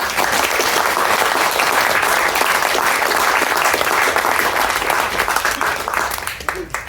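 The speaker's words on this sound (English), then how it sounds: "So, round of applause, please." A loud, close round of applause fills the room after a landscaping Q&A session, dense clapping sustained for several seconds before tapering off at the end.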